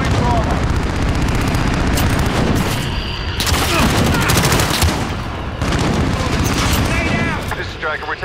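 Heavy gunfire in a military video game, with dense, continuous bursts and booms and loud automatic fire throughout. Radio-style voices come in and out underneath the din.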